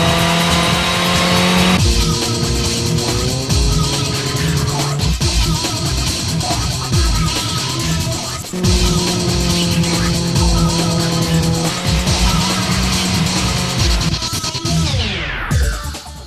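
A rally car in the video game Rally Championship 99 races hard, its engine whining up and down through gear changes while tires squeal through the corners, loud and continuous before the sound cuts sharply near the end.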